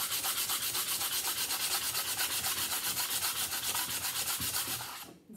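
Sandpaper rubbing paint off a small wooden rustic heart craft, a rapid rhythmic back-and-forth scratching that stays close and steady before stopping abruptly at the end.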